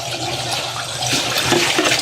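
Water is poured down a drain, making a steady broadband rushing and splashing that builds slightly toward the end and runs unbroken for the whole stretch.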